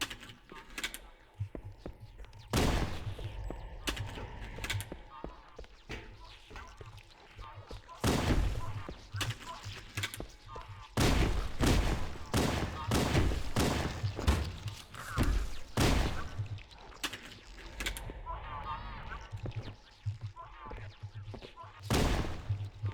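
A pistol firing in Halo: Combat Evolved Anniversary, loud sharp cracks in scattered single shots and short volleys with pauses between, close and punchy, a voice talking now and then.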